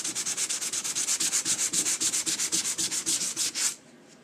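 Rhythmic back-and-forth rasping of fine sandpaper on a car bumper, about twenty quick even strokes, close and loud, then stopping abruptly.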